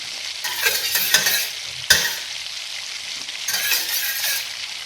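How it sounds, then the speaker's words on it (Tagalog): Egg sizzling and crackling in hot oil in a pan at breakfast, a steady close frying hiss with brief louder spatters and a sharp clink near the middle, no voices. "Tapos ilalagay natin ang egg."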